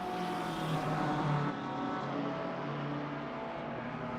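A Mustang GT race car at Suzuka in Assetto Corsa Competizione, its engine holding a steady loud tonal drone with a slight drop in level partway through, alone without talk.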